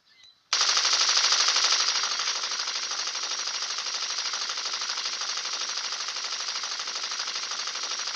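Sustained automatic gunfire in the Blitz Brigade shooter game, a dense rapid rattle that starts abruptly after a short pause and keeps going loud and steady to the end, with no talk over it.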